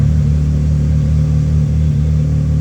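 A Can-Am X3 XRS Turbo RR side-by-side engine, started by remote start, idles loud and steady with a deep constant rumble throughout, no voices present.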